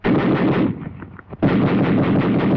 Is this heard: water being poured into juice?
no